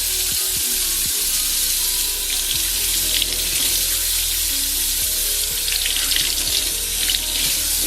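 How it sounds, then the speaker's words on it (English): Cold tap water runs steadily from a faucet into a sink, rinsing a dirty Morphe makeup sponge, a loud continuous hiss and splash with small handling sounds underneath. "I'm gonna rinse it off cold."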